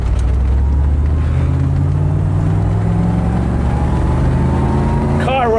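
A 1991 Chevrolet Camaro Z28 convertible with a five-speed manual cruises in second gear, its engine a smooth, steady drone heard up close from inside the car with road and wind noise.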